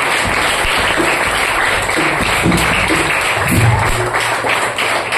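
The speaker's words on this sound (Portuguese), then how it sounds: "aplaude a Jesus" Church congregation applauding at a worship service, a dense, steady wash of clapping with scattered thumps, loud and continuous throughout.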